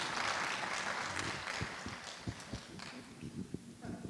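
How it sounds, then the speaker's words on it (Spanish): Audience at a plenary science talk clapping for a professor, a dense wash of applause that thins into scattered individual claps toward the end. "Por favor, un aplauso para el profesor"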